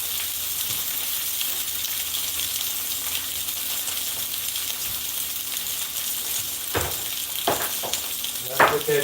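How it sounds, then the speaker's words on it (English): Meat searing in a pan makes a continuous moderate sizzle, with a few sharper scraping clacks toward the end as it is moved around. "Gotta put that good sear on it, right?"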